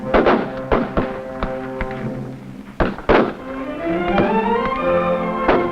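Rifles firing at the National Rifle and Pistol Matches at Camp Perry, Ohio: several sharp, close shots at irregular intervals with ringing decay, followed by a sustained tonal hum.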